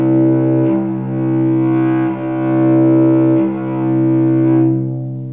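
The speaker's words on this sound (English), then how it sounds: "if we put our bow in channel 1, which is over the fingerboard, then we're going to play with a fast, light bow" A cello bowed over the fingerboard with a fast, light bow gives a broad, warm tone, a few long sustained notes played close and fairly loud with no talking.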